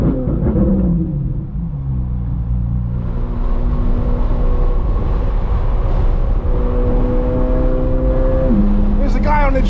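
A Corvette C8 Z06 engine and exhaust, a loud, close rumbling drone with rising and falling revs throughout, and a voice talking at times.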